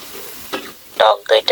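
Spices for chicken biryani fry in oil in a pan, giving a sizzle with a few loud bursts of stirring and scraping near the end.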